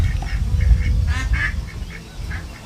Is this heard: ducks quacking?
yes